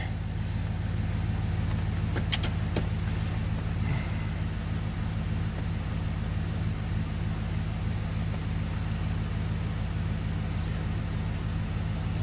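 Pontiac GTO V8 running steadily after a misfire repair, a constant low engine hum with a few brief faint clicks early on and no talk.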